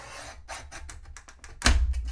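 Paper for a gift box for 5 x 7 cards being trimmed: a string of short, quick scraping strokes closely miked, ending in a louder, sharper rasping burst near the end, with no voices.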